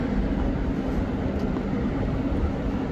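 Inside a train station near Prague, a train waits at the platform, giving off a steady, loud low rumble with broadband hiss that holds evenly throughout, with no speech.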